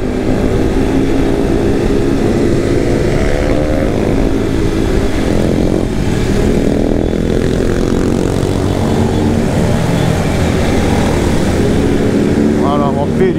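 A BMW S1000RR motorcycle ridden uphill, its engine droning loud and close with rising and falling revs, wind rush throughout and someone speaking over it.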